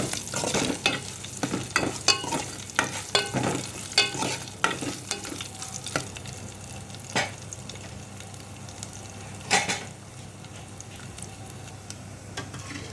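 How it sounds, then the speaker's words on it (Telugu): Garlic cloves and dried red chillies sizzle in hot oil for a tempering, a continuous close crackle broken by sharp stirring clicks and spoon taps, with no voices. "వెల్లుల్లి రెబ్బలు అలాగే ఎండుమిర్చి పోపు చక్కగా ఫ్రై అవ్వాలి"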